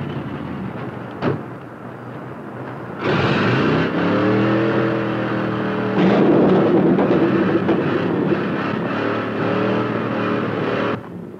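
A powerful hot rod engine roars in loud, rough bursts, revving up sharply and holding a heavy rumbling tone for several seconds.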